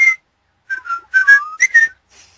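Loud, clear human whistling heard alone, a few short melodic phrases with gliding pitches and brief pauses between them.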